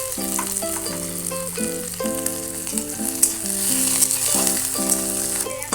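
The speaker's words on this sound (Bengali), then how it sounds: "এই যে হালকা ভাজা ভাজা হয়ে গেছে" Chopped onion, green chili and garlic frying in oil with a bay leaf and dried chili make a continuous hissing sizzle beneath prominent background music.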